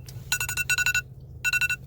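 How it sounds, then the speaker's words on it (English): An alarm goes off in a nail workspace, sounding short electronic beeps in quick groups of about four, separated by brief pauses, over a low steady background hum. "hold on, let me turn off this alarm"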